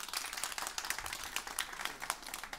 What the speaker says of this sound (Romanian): hai să aplaud de oamenii care au venit pentru prima oară la un show de stand-up comedy